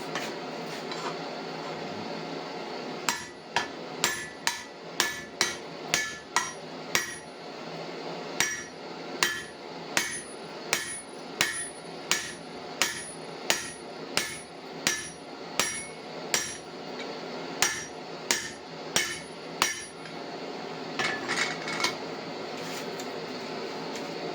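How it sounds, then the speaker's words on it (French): A hammer forges hot steel on an anvil for a handmade guillotine, striking in a long, steady series of sharp, ringing blows with brief gaps, loud and close, with no talking. "Allez, notre acier est chaud, il n'est pas extraordinaire. Je le forge, je le chauffe."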